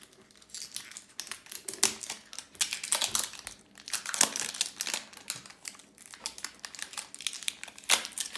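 Paper and cardboard packaging crinkles and crumples up close as a package is unwrapped, in dense, irregular bursts of crackling and rustling with a few sharp tearing snaps.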